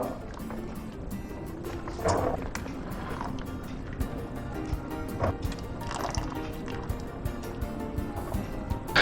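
Boiled cauliflower and its hot cooking water pour into a strainer, a steady sloshing, splashing stream with dripping, close by and continuous for several seconds.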